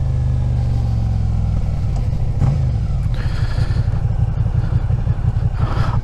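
Suzuki SV650 V-twin motorcycle being ridden on new tyres, its engine throbbing loud and close in a steady pulsing drone with wind rush and a brief rise in revs.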